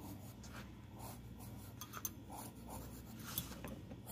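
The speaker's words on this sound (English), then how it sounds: "Again, I'm drawing." A pen drawing roses on paper during a grade 2 math lesson on division, giving soft continuous scratching strokes at a steady pace, faint and close against a low background hum.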